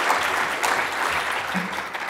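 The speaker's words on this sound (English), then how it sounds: "deserve a warm round of applause, don't they, for that waiata?" A warm round of applause from the gathered crowd at a welcome ceremony after a waiata, steady mid-level clapping throughout with a faint voice or two underneath.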